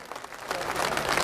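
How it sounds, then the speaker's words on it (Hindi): At a Vishwakarma Day cultural event in Gohana, an audience applauds to welcome the chief minister, a dense spread of clapping that grows slightly louder over about a second. "एक बार तालियां बजा के स्वागत"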